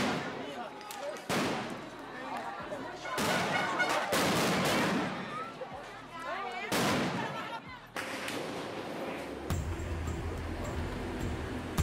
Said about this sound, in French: Les tirs, les tirs.